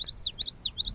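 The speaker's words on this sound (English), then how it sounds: "there's a bird behind you" Near a beach, a small bird repeats quick high chirps in a steady pattern of paired tweets, close and clear with no talking over it.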